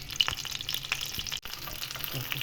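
Pork chops sizzle in a frying pan, a steady crackling hiss with occasional sharper pops, close and fairly quiet.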